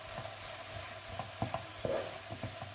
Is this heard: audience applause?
no